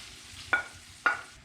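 Lamb liver frying in a pan: a quiet background sizzle broken by two sharp stirring or turning scrapes about half a second apart.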